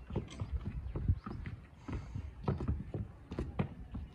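A Nukra horse foal's hooves clip-clopping steadily on the ground, close and continuous with uneven rhythm, alone without speech.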